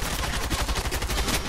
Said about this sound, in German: Ah, ich schieße auf ihn.